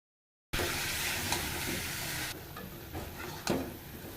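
Potato and papaya fry with chicken in a spiced pan, a close continuous sizzle after brief silence that thins midway, broken by a few stirring scrapes.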